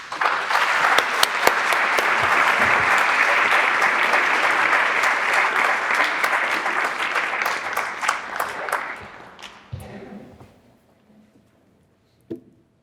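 Audience applause welcomes a lecturer to the stage at a member lecture on a Flemish painting, a dense, steady clapping that holds for about nine seconds before thinning out and fading to near silence.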